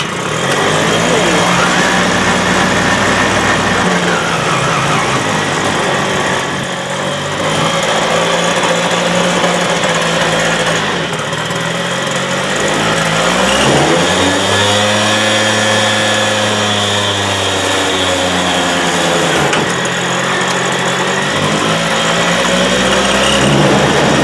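A 1980 Suzuki FZ50 moped engine runs steadily on its first start with a fresh carburetor, a loud, continuous buzzing idle sitting slightly high, with the pitch sagging and rising as the revs wander.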